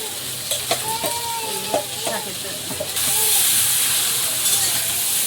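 Shrimp frying in a pan with loud sizzling and stirring clatter; a voice talks over the first half before the sizzle swells into a louder hiss.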